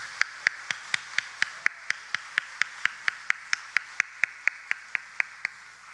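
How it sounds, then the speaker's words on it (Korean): Church congregation clapping together in a steady, evenly spaced rhythm of sharp claps, about four per second, with no voices over it. "축복의 박수 하겠습니다."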